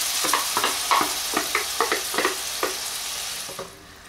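Canned tomato going into a hot pan with turmeric powder while cooking matar paneer masala, giving a steady close sizzle broken by repeated stirring scrapes, easing off near the end.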